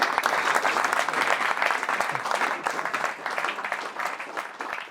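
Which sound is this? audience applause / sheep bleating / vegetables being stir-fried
audience applause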